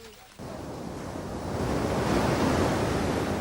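Ocean surf on the Coromandel coast roars as a continuous, loud wash of breaking waves that swells after a brief quieter start and stays dense and steady, with no voices.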